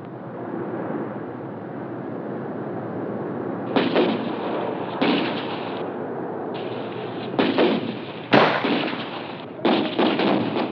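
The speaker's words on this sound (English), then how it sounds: "Then you're out in the open, advancing, finding, and firing at those targets before they disappear." Rifle shots crack out at irregular intervals during army training at targets, about seven distinct reports over a constant low hum on an old, noisy 1963 recording.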